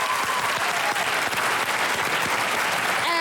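A studio audience at a 2012 Australian TV panel show applauds steadily. The clapping is dense and sustained, and a few faint tonal sounds and indistinct voices sit underneath it.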